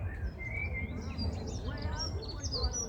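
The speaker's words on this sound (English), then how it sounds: "Hello, happy bird." A small bird chirps and sings in short bright phrases among blossoming wisteria on a wide pergola, moderately close, over a low outdoor background hum.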